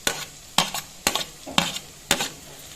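Chicken liver frying in a pan while being stirred: five distinct scraping, clinking strokes of a spoon against the pan over a low background sizzle, close and without talk.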